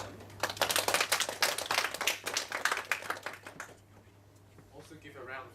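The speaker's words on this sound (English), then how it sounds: "give a round of applause to them" Audience at a Toastmasters club meeting at a Hong Kong business school giving a round of applause, a dense burst of clapping for about three seconds that thins out and fades, with a faint voice near the end.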